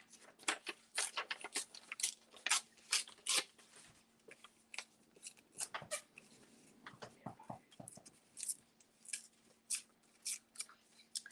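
Patterned paisley paper torn by hand into pieces for a craft project, a series of close, crisp ripping and rustling bursts in an irregular rhythm with short quiet gaps.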